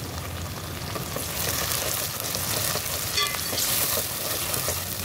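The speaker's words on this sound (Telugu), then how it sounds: "ఉల్లిపాయలు పచ్చిమిర్చి అయితే ఫ్రై అవుతున్నాయండి." Chopped onions and green chillies frying in oil in a pan while cooking chicken pulao, a continuous close sizzle with faint crackles and occasional stirring scrapes, no voices.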